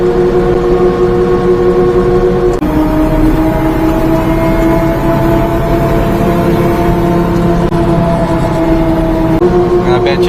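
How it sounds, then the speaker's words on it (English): Supercharged mini-truck engine running hard with an overdriven blower: a loud, close, continuous droning roar with a steady whine that shifts pitch slightly partway through. "I bet you I'm overdriving that supercharger right now."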